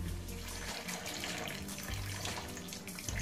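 Water runs steadily from a tap into a bowl of washed grain for soaking, a close, continuous gushing splash with no voices.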